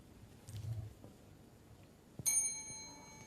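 A bell rings once to signal the start of a 3-minute thesis presentation at an academic conference, a clear bright strike with a sustained ringing tone after a quiet, faintly noisy room.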